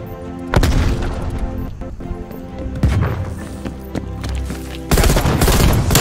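Grenade blasts and heavy gunfire in the Call of Duty Cold War video game, with loud booming bursts and rapid shots repeating across the clip, a big blast near the end.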